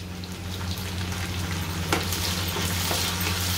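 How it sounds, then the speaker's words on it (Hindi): Onions frying in a pan, a steady moderate sizzle with a low hum underneath and occasional clinks of a spoon against the pan. "प्याज को अच्छे से भून लेंगे"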